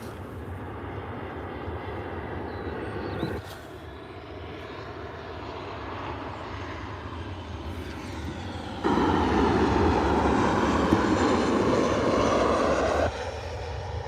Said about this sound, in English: And it says a Ryanair 737 from Vienna.